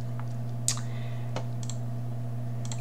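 Two or three sharp, quiet mouse clicks on the Make It button in Cricut Design Space, heard close against a steady electrical hum with no speech.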